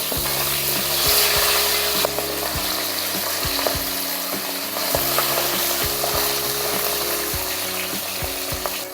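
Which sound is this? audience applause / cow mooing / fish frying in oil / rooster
fish frying in oil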